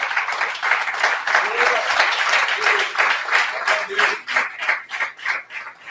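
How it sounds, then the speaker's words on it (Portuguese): A church congregation claps in a short round of applause for Jesus, a fairly loud wash of hands that thins toward the end as a voice talks over it. "Mas dê um aplauso ao Senhor Jesus."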